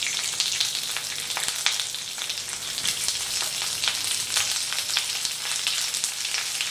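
Diced onion and capsicum frying in hot ghee for paneer bhuna masala, a steady close sizzle with crackling pops and occasional stirring scrapes throughout, no talk.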